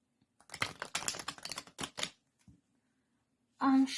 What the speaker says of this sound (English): I'm shuffling the cards for Capricorn.